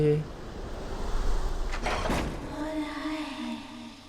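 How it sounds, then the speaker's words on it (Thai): A door opens in the video game Last Day of June, heard as a short creaking, scraping sweep with a soft thud, set against a quiet ambient game soundtrack with some talk. "มันมีประตูอื่นเปิด"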